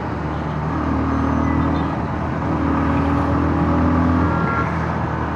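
A 2026 Bajaj Pulsar 150 motorcycle accelerating on the road, its engine a loud, steady drone with rising pitch, mixed with strong rushing wind noise from riding.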